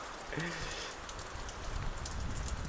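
Steady rain patters over a farm field across the whole stretch, with a brief tonal call near the start over the wet hiss.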